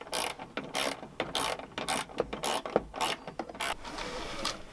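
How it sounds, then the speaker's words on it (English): A bracket being unbolted and bolted back on a 1999 Mitsubishi Montero, with a ratchet's quick bursts of clicking alternating with short pauses and metallic handling noises, close by, with no one talking. "we're just going to unbolt this, connect this bracket back on, and then just put the bolt back on"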